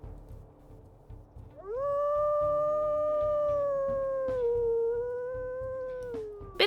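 A young female wolf gives a single long, high-pitched howl that rises sharply, holds steady for several seconds, then dips and fades, clear and fairly close against a quiet background.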